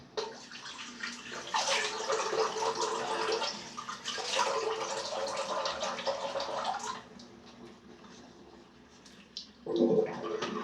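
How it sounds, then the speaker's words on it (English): Water drains noisily from a bathroom sink in steady gurgling, rushing surges that rise and fall for several seconds, ending with a brief louder splash. "I'm going to drain the sink."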